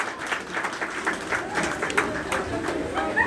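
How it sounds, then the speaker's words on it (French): Applause from guests at a ceremony, moderate and somewhat uneven clapping with a few sharper claps standing out, mixed with faint chatter in the room. "Est-ce que vous pouvez applaudir? Applaudissez-les."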